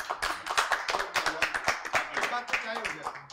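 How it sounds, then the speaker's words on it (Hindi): Scattered, uneven claps ring out at a JEE coaching course launch event, sharp separate hand claps from a small group rather than a full crowd, with voices heard alongside. "इस बात पे तालियां हो जाए"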